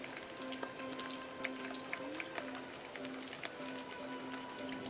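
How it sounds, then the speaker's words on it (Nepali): Goat meat frying in a pan for khasi ko bhutuwa in a village kitchen, a steady soft sizzle with scattered tiny pops, faint and continuous throughout, no talking. "यो चाहिँ अब मजाले फ्राई भएको छ"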